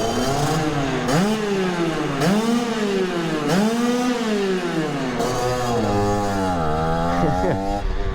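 A 50cc moped engine revs repeatedly inside a tunnel, its buzzing pitch rising and falling in several loud surges that echo off the walls, then holds a steadier high drone near the end.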